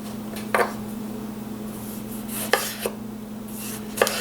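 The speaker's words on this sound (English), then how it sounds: "Notice how sharp my knife is, makes it a lot easier on this very ripe tomato." Sharp kitchen knife slicing through a very ripe tomato on a cutting board, three or four distinct cuts spaced apart over a low steady hum.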